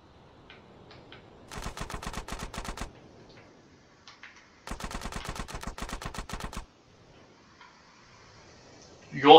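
Automatic gunfire in GTA San Andreas Definitive Edition, set in Liberty City, comes as two rapid, loud bursts of shots separated by quieter game sounds.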